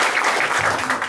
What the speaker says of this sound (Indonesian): Oke, tepuk tangan Bapak Ibu.